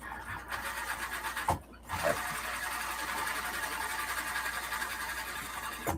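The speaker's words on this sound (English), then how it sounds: "I always back tack the beginning and the end of this" A sewing machine stitches steadily at close range for several seconds, its rapid mechanical chatter dipping briefly twice where the stitching reverses to back tack the start of a seam.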